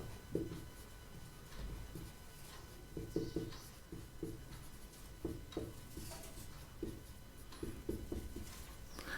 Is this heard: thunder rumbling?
no